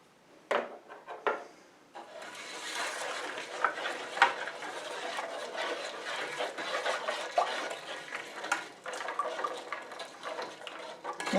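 Nut brittle candy mixture being stirred in a pot, a continuous scraping and bubbling sizzle with occasional knocks of the spoon against the pot, moderately quiet and steady.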